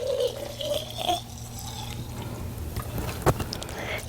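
Used painting solvent trickles and gurgles as it is poured into an old mason jar, a soft close liquid stream ending with a small glassy clink.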